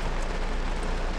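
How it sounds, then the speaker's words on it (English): Heavy rain pouring down in a steady, dense broadband hiss that fills the short moment without letup, close and continuous, with no talking. "Look at this rain. Oh my God, it just poured."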